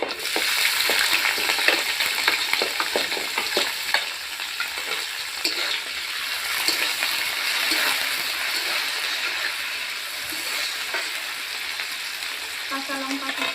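Chopped onion frying in hot oil with whole cumin and broken bay leaves for egg bhurji curry, a loud, dense, continuous sizzle close by with light stirring clicks and scrapes throughout.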